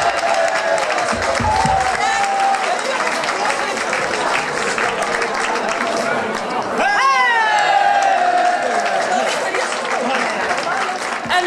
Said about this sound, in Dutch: Een applaus voor Ed en Jolanda.